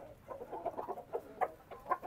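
Chickens on a farm on a rainy day, a quick series of soft clucks and short calls close by with faint background noise.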